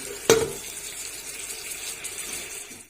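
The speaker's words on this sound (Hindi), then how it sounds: "अब अच्छे से हम इसको भून लेंगे।" Turmeric-spiced masala frying in a pan for kadhi, a soft steady sizzle after a sharp clink at the start, close and moderately loud with no talk.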